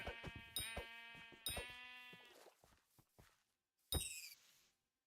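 Sheep in the Minecraft-based video game Hypixel Skyblock bleat in several distinct wavering cries, close and clear, with short clicks and taps between calls and a gap of silence before a final bleat.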